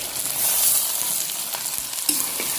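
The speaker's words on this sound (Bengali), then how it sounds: "এবার আমি ভাজা আলুটা দিয়ে দিচ্ছি" Fried potatoes going into mutton that is sizzling in oil over a clay stove, with a loud, steady crackle and a few sharp clatters from stirring.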